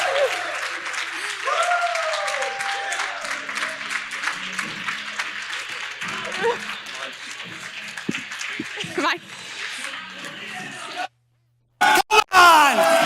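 Keynote conference audience applauding and cheering as a speaker is welcomed, a broad sustained clapping with shouts and a loud voice over it, ending in a brief silence and sharp bursts.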